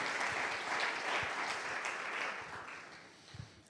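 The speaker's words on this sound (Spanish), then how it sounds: "Dale un fuerte aplauso a Él en esta noche" A church congregation applauds during an evening service: dense, steady clapping fills the clip, loud and even, tapering slightly toward the end with no talk over it.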